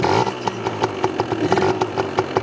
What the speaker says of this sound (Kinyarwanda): Urumva ko moto yacu iri kwaka.